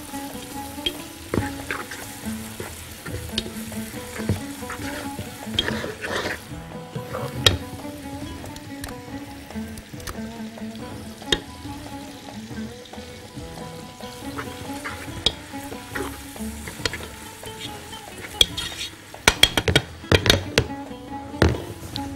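Garlic sizzles in a pan for fish kabsa while it is stirred, with a steady frying hiss under repeated scraping and clinking taps from the spoon against the pan.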